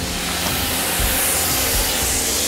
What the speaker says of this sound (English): Engage my pre-spray thing. Gotta release the pressure.